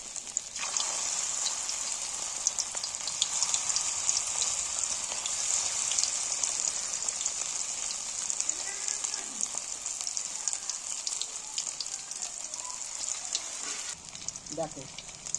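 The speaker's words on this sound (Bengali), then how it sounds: "পাউডার দিয়ে এইখানেই মেখে নিয়েছি, নিয়ে আমি তেলে ভেজে নিচ্ছি।" Egg pieces coated in cornflour frying in hot oil, a continuous bright crackling sizzle held steady throughout, close, with a faint voice near the end.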